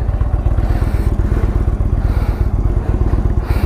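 A 2017 Indian Chieftain Dark Horse, a large V-twin motorcycle, runs steadily close by with a throbbing, even low engine pulse throughout.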